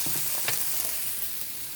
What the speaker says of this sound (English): So I'm going to add my peppers in right away. And I'm going to get those going.